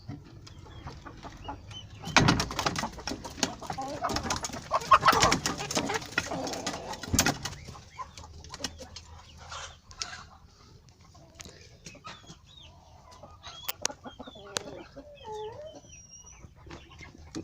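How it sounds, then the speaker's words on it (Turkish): Chickens cluck and coo in irregular bursts, with busy rustling and scattered bird calls nearby, livelier early then thinning out. "Tavuklar çıktı dışarı."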